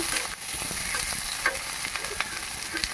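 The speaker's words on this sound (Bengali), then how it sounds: "দিয়ে দিচ্ছি টুকরো করে রাখা ক্যাপসিকাম ওটাকে দিয়েও আবার নেড়ে চেড়ে দিচ্ছি" Capsicum pieces sizzle in a pan while being stirred, a constant frying hiss broken by soft spatula scrapes and clicks, close and moderate.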